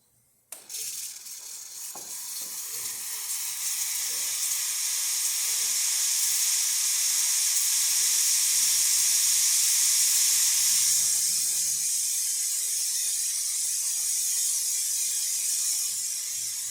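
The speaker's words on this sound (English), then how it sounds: "And the steamer." The steam wand of a Breville Oracle Touch espresso machine, just serviced, bursts on sharply and then hisses in one long, loud, steady rush that swells slightly and holds to the end.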